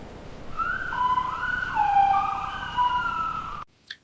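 Ambulance siren wailing in a French dramatic film scene, a steady rising and falling electronic tone that holds loud and close for several seconds, then cuts off abruptly.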